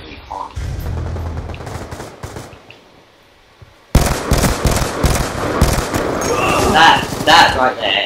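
Video game gunfire in a league match, a sudden loud, dense stretch of rapid shots and impacts after a quiet pause, mixed with voices and other game effects.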